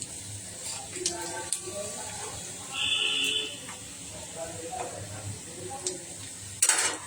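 Finely chopped onions browning in a pan, a soft sizzle broken by scraping stirs and occasional clinks of a utensil against metal, with a sharp clatter near the end and someone talking over it.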